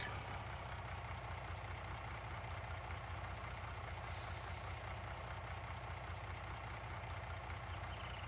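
A timber truck with a mounted crane unfolding in Farming Simulator 19, heard as a steady idling engine drone with mechanical hiss and a brief air-release whoosh partway through, constant and close.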